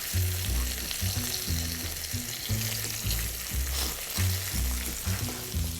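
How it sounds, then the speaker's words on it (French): Floured veal shanks sear in olive oil in a pan for osso bucco, giving a steady, close sizzle with no one speaking. A low rhythmic thumping runs underneath. "Voilà, nos jarrets sont partis en cuisson."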